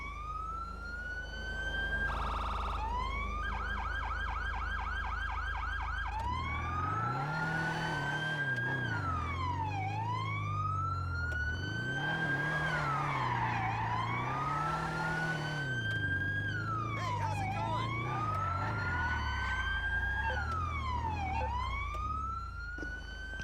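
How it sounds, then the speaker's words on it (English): A unique police siren on a Lowrider-style police car in GTA Online, loud and continuous, sweeping up and down in repeated wailing cycles over a low engine rumble, with no talking. "It does also have a unique siren as well."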